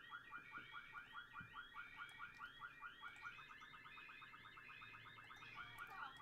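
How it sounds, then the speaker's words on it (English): Loud electronic alarm, like a car alarm, cycling through rapid repeating warbling tones without pause, steady and continuous in an indoor household setting with no talking. "It's such a loud alarm."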